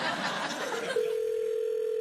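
A steady telephone dial tone sounds at close range as a call goes out to a talk-show contestant, starting midway after a burst of studio audience chatter and laughter and holding unbroken to the end.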